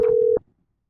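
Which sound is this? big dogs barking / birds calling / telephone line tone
telephone line tone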